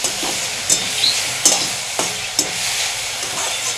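A pan of sesbania (bok) flower chorchori fries and sizzles loudly and continuously up close, with a spatula scraping and knocking against the pan at a regular, unhurried rhythm.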